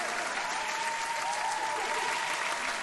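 Steady, sustained applause from many hands, an even wash of clapping at moderate volume with no break and no voices over it.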